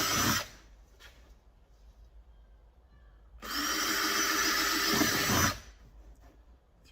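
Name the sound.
power drill drilling small holes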